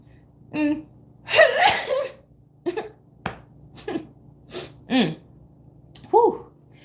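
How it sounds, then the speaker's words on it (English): A single loud sneeze bursts out near the microphone, surrounded by short gasps and breathy vocal sounds. "That was a sneeze"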